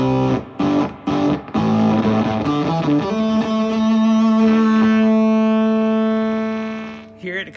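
Electric guitar through a starved-transistor fuzz pedal, choppy sputtering notes giving way to a long sustained fuzzy chord that gradually fizzles and decays near the end, loud and alone without talk.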